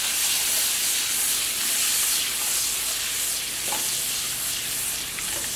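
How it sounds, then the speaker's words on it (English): Sliced apples sizzle and fry steadily in a hot skillet for a caramel apple pancake, a continuous close hiss with faint scraping stirs, no talking. "Put these apples down in the skillet."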